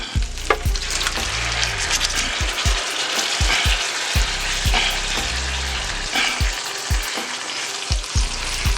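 Meatballs fry with sauce poured into the hot pan, giving a loud, steady sizzle with repeated scraping stir strokes and clanks of a utensil throughout, no voices.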